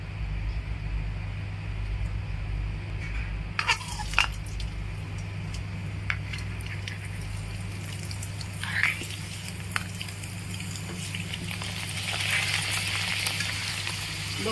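Homemade rice papad seasoned with cumin and ajwain fries in hot oil, making a soft, continuous sizzle under a low steady hum, with a few sharp crackles and bubbling bursts partway through.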